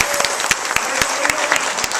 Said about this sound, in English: Big applause for Margaret.